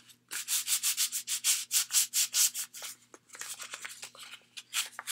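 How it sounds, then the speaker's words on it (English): A 3D printed mold is sanded by hand in quick rhythmic strokes, each a bright raspy scrape, about three per second with short pauses, close and clear with a faint steady hum behind and no voices. "Just sanding away."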